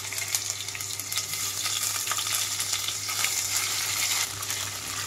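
Ginger garlic paste frying with onions in hot oil for a soya chunk biryani, a steady, loud crackling sizzle running throughout with faint stirring scrapes and no talking.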